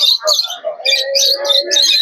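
Pigeons calling close by at a market, a mix of chirps and cooing notes repeating over a couple of seconds, with no speech.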